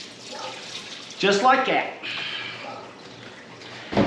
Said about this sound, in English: So we're going to pour diesel.